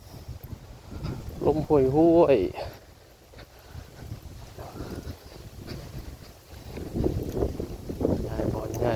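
Wind blowing outdoors, gusting as a broad rumbling rush against the microphone, with someone talking and singing over it.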